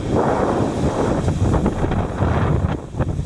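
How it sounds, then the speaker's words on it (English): Strong wind in the aftermath of Hurricane Irma, loud gusts buffeting the microphone as a continuous rough rumble with a few brief pulses, no talking. "Still very windy."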